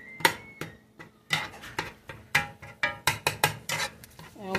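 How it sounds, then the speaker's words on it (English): A spoon scrapes and clanks against a pot while ground beef browns, a series of irregular metallic knocks and scrapes, close and fairly loud. "And we just gonna keep on stirring it until it brown up."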